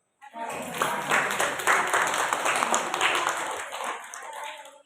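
An audience breaks into applause, a dense wash of many hands clapping for several seconds before fading.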